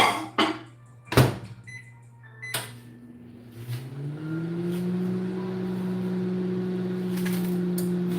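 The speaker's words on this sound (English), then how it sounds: "And I'm just going to sit it in the microwave. Start out with 30 seconds." A few clunks and a beep as a microwave oven door closes and it starts, then a steady electrical hum settles in and runs on continuously, heating peaches for cobbler.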